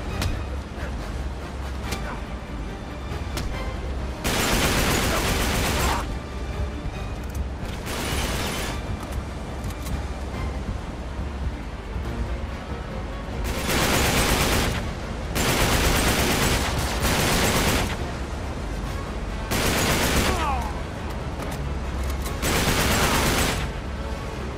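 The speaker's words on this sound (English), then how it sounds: "Shooting from moving vehicle isn't always easy." Gunfire from a moving vehicle in the video game Uncharted 3 on a cruise ship: repeated loud bursts of rapid shots and booms come in clusters over a steady rumbling background, with long stretches of dense firing.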